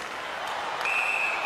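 An ice hockey crowd at a home-team playoff game roars steadily in a big arena, rising slightly toward the end with a whistle-like tone cutting through, reacting to a penalty called against the home team.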